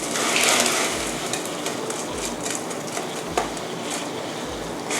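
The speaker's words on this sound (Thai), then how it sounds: "จากนั้นก็เทลงไปในน้ำเดือดเลยค่ะ" A steady hiss and bubbling rush of boiling water, with small sago pearls pouring in and faint clinks of a pot, close and continuous.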